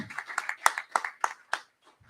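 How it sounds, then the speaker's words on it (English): Scattered clapping from a small group at an in-person reps meeting, a handful of distinct sharp claps in an uneven rhythm that thins out and stops, close and fairly quiet in a small room. "give a round of applause for everyone who actually showed up in person"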